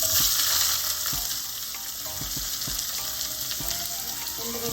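Sliced onion, green chili and curry leaves frying in hot oil with cumin, a steady close crackling sizzle with occasional stirring clinks and scrapes throughout, no voices.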